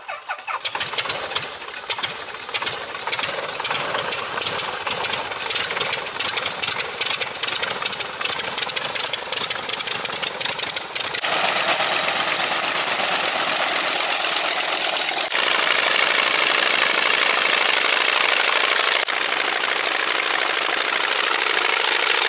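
An Aeronca Champ light aircraft engine runs in a steady, loud, close drone with no talk, shifting in tone around the middle and rising slightly in loudness toward the end.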